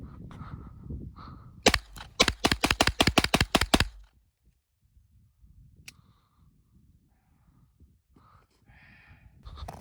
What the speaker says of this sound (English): Good angle of me shooting?